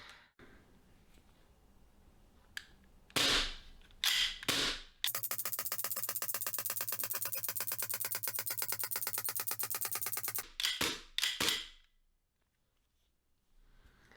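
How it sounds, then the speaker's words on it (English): A Sig Air VFC M17 gas blowback airsoft pistol fires several sharp, close snaps, then a long fast burst of rapid clattering cycling, and a few final shots before going quiet once the magazine runs dry. "we'll see how many shots we can get from this magazine until it stops locking back the slide on empty"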